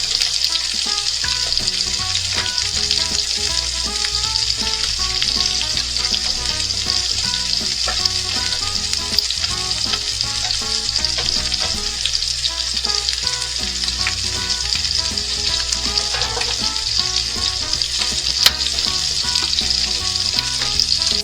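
French fries frying in a pan give a dense, continuous sizzle, close and steady throughout with faint stirring clicks.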